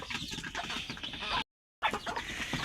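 Chickens cluck and chatter close by, with a brief silent gap in the middle.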